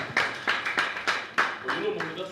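Audience applause for a singer, bursts of hand clapping in an irregular rhythm, fairly close and lively, with chatter mixed underneath.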